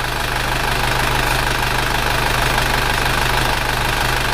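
Isuzu Panther diesel engine idling at its normal working temperature, a steady, loud, close-up rumble with an even low throb and no other sounds.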